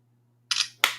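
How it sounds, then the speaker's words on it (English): Camera shutter on a OnePlus Nord N200 5G phone clicks twice in quick succession, two crisp close clicks over a faint background hum. "Quick shutter time, man. Very fast shutter time."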